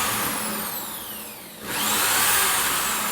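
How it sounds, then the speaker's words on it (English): A power drill bores through a wooden shelf, its steady whine easing down, then revving back up and holding high, up close with no voices. "I'll start in slow and I'll speed it up and drill through slowly."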